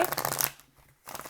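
Tarot cards are shuffled by hand in a quick, close riffle that lasts about half a second, followed by a short pause and then the start of another shuffle.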